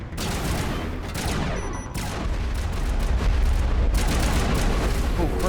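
Dense, loud gunfire and booming explosions from a Mass Effect Legendary Edition firefight on PC, continuous bursts of shots and blasts filling the whole stretch, with faint talk underneath.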